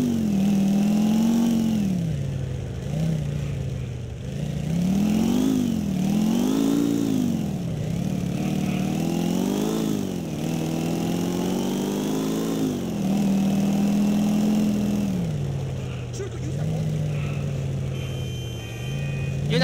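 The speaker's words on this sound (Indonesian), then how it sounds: "Ini motor kita tipenya chopper ya" A chopper motorcycle in the GTA IV video game revs loudly and steadily, its engine pitch rising and falling in repeated waves over about twenty seconds with no talk.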